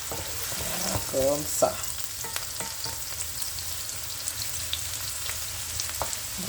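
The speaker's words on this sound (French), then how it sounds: "On va laisser cuire la sauce de pâtes." Meat pasta sauce made with onions and carrots sizzles and fries in a pan with a steady crackle, broken by a few sharper pops and stirring scrapes, while a voice speaks a couple of words near the start.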